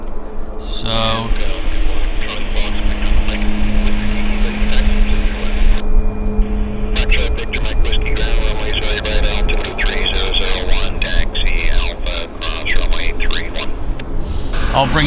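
WestJet 105, a jet inbound from Calgary, approaches Vancouver airport with a steady, loud broadband roar lasting throughout, and brief tonal whines mixed in.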